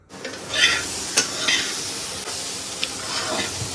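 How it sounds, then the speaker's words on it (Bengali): Sweet corn frying in a home kitchen pan, a steady close sizzle with occasional stirring scrapes and clinks, no one speaking. "ওই কর্নটা একটু ভেজে নিই"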